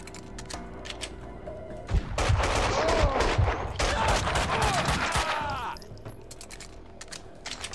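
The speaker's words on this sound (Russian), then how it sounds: "Но что-то как-то странно стреляет Макс" Gunfire from Max Payne's weapons in the video game Max Payne 2: The Fall of Max Payne, a dense burst of rapid shots and mechanical clatter lasting several seconds amid game sounds and debris, with someone speaking over it.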